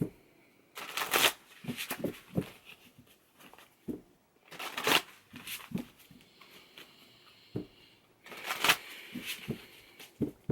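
A deck of tarot cards being shuffled close by, several quick riffling bursts separated by pauses and soft handling sounds.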